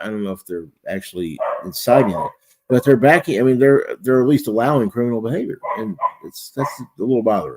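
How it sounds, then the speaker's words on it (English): A dog outdoors barks at a squirrel in the background, its intermittent barks partly masked by someone talking continuously in the foreground. "Sorry about the barking. My dog is out there trying to intimidate a squirrel."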